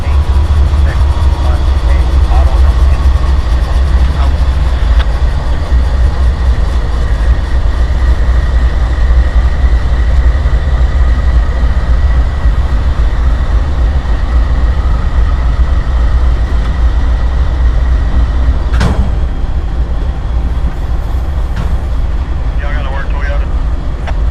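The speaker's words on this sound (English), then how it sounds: "Train NS 173 continues his trip." Norfolk Southern train 173 rumbles past a rail yard with a steady low roar and faint rail clatter, while a voice talks over it throughout.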